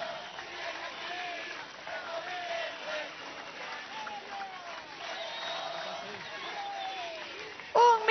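Crowd at a political rally for a socialist missions march applauds, a dense, uneven patter of clapping with scattered cheers and voices, ending with a brief louder burst.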